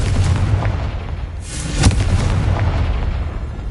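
Confringo explosive curse from Hogwarts Legacy: a dull booming blast at the midpoint over a steady rumbling game background, with a softer burst earlier, no voices.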